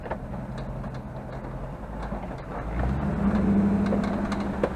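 Jeep Wrangler JK converted to an LT1 V8 with an eight-speed, bump-shifted down into first on a small downhill: a steady low engine drone that swells and deepens partway through, with a faint whine riding on top near the end.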